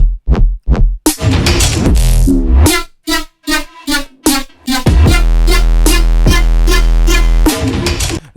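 An electronic dance track with punchy bass hits and chopped synth stabs, building into a loud, sustained drop with heavy low end.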